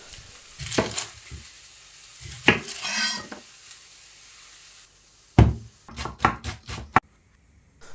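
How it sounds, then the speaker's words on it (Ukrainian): Sharp knife strikes on a cutting board while chopping onion, a few scattered chops first, then a quick rapid run of chopping near the end, with no talking. "Чистимо та нарізаємо цибулю."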